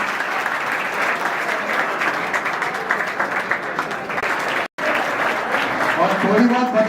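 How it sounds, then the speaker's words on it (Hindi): A large seminar audience applauds loudly and steadily for a prize winner, the clapping briefly cutting out before resuming just as strong, with some voices mixed in near the end. "तो एक बार जोरदार तालियां के लिए।"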